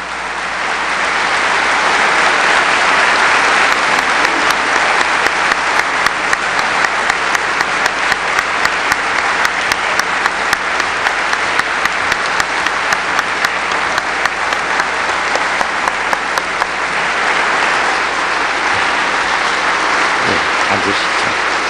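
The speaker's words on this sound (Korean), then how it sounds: "뜨거운 박수로 대통령님을 다시 무대로 모시겠습니다." Large audience giving loud, sustained applause to welcome a Korean president onto the stage at a lecture for innovative venture entrepreneurs, dense clapping that swells, holds for a long stretch and then fades.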